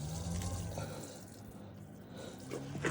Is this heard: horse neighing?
no